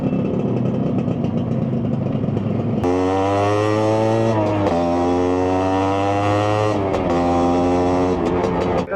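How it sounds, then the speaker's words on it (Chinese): Exhaust of a 32-year-old Honda NovaRS 110 motorcycle while riding, a steady rumble that jumps into a loud, buzzing harmonic drone as the throttle opens, dipping and rising with gear changes. "在后边来记录排气的声音"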